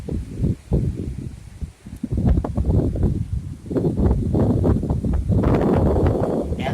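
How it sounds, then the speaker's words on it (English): Strong tropical storm wind from Tropical Storm Michael buffets a microphone outdoors, loud gusting roars that surge and drop, building to a sustained rush toward the end. "Now we're getting up there a little bit more in the wind."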